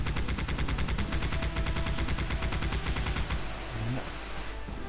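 Rapid automatic gunfire in the video game Geist rattles in a fast, even burst for about three seconds, then stops and leaves a lower background with faint tones.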